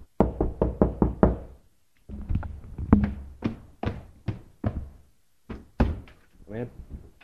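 Sharp knocks on an office door, a quick run of five or six raps, followed by several more single knocks spaced between voices talking in the room.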